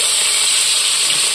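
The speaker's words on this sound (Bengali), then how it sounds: "পাবদাগুলি ভাজা বসাই দিলাম।" Pabda fish fry in hot oil, giving a loud, continuous, close-up hiss that holds steady for the whole moment.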